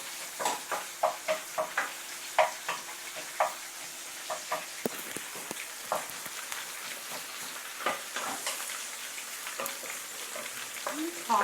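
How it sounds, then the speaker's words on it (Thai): Macaroni with chilli and sausage stir-fried in a pan, a loud steady sizzle broken by frequent sharp scrapes and clacks of the utensil against the pan, close up and continuous, with no talking. "อันนี้เป็นคั่ว"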